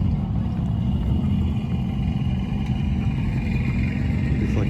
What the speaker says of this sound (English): That's a big pipe on the back. Big Yoshimura pipe on the back of that one.